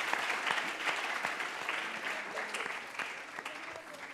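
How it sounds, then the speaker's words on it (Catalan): An audience applauds two young performers at a children's show, a steady, even spread of clapping throughout, moderately quiet and at a middle distance. "Un fort aplaudiment per l'Helena i per l'Adrià, que ho han fet molt bé"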